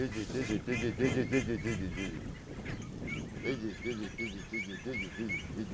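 Flocks of wild ducks released into nature call in repeated quacking bursts, loud and near at first, then joined by scattered higher calls, with voices speaking over them.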